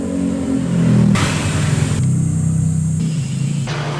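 A Honda Click 125 scooter engine fitted with a PCX 150 fan runs close by, loud and steady, swelling in a rev then settling into a throbbing idle with a few pitch shifts.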